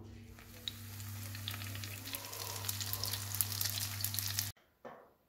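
Cheese-filled brick pastries frying in hot oil in a pan, a steady close crackling sizzle with scattered pops that cuts off abruptly near the end, followed by a brief faint scrape.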